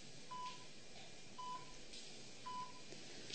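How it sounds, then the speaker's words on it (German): A telephone being dialed in a quiet room, three short, evenly spaced keypad beeps about a second apart over faint background hiss. "Ich werde jetzt Paul anrufen."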